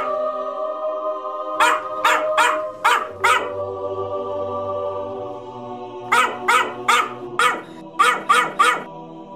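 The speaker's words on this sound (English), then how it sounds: "Holy shit, it's Gabe the dog." A dog barks in two rapid runs, five sharp barks and then about eight more, loud and close over a sustained musical tone with a low hum, with no talking.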